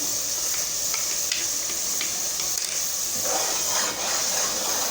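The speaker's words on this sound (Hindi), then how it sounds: "प्याज भुन रही, मसाला डाल रही।" Onions frying with spices in a pan for an egg and chickpea curry, a loud continuous hiss and sizzle with intermittent stirring scrapes, close up and without speech.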